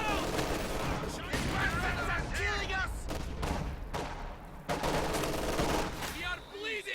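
Rapid bursts of MG42 machine gun fire in the real-time strategy game Company of Heroes 2, clattering in repeated volleys amid other battle noise, under steady commentator talk.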